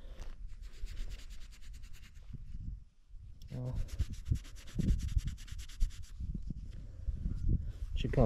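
Repeated scratchy rubbing and scraping strokes as a coin is rubbed clean, close and fairly loud, with a brief pause midway and a single short spoken word.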